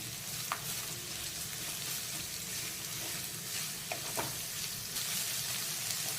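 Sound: onion and capsicum frying on medium gas

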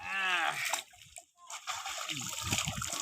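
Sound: splashing water while bathing in Payra river

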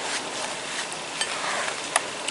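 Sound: stirring siomay filling mixed with seasoning

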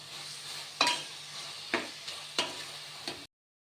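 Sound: masala gravy being fried and stirred for paneer biryani

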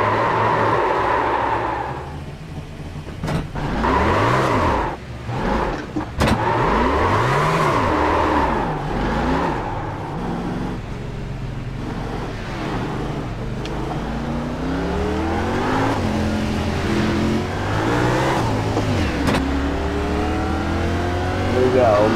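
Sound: race car accelerating in iRacing video game

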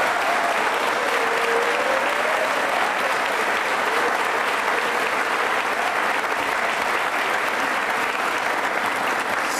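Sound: NCC cadets applauding loudly

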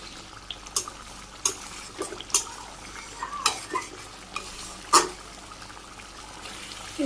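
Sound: stirring cumin powder into cooking food in pan

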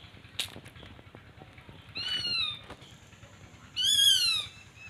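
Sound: sparrowhawk calling

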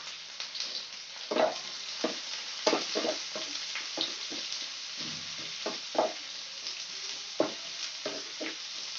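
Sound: chopped onions frying and being stirred in pan

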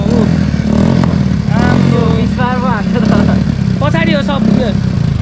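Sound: modified Honda dirt bike engine revving

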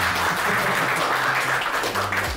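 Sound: applause

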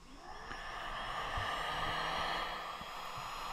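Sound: heat gun running on low setting

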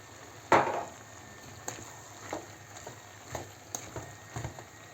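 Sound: liver frying in oil in a pan

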